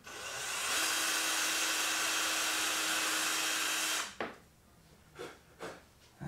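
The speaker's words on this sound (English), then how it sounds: "Low speed drill setting." A power drill on a low speed setting runs at a steady, moderate whine for about three seconds, stops sharply, then gives a few brief, quick bursts.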